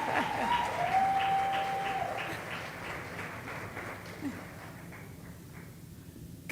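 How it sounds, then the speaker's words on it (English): Audience applause at a women's jazz brunch gathering during Essence Fest, a broad moderate wash of clapping that slowly fades, with no voices over it. "Let's give her a round of applause"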